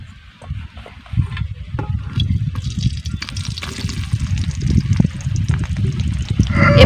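Cut mango pieces dropped into hot oil for a Bengali mango pickle set off a steady, crackling sizzle with frying bubbles, close and fairly loud, continuing without talk.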